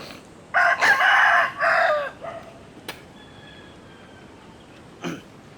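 Roosters and chickens of Oriental Hatch and Oriental Sweater gamefowl lines crow nearby in a loud burst of several strained calls, followed by quieter clucks and a short squawk over faint background hiss.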